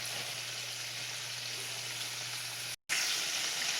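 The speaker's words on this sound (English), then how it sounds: "Okay, we'll let this continue frying." Chicken for a sandwich fries in grease with a steady, dense sizzle and a low hum; the sound cuts out briefly near the end, then resumes at the same level.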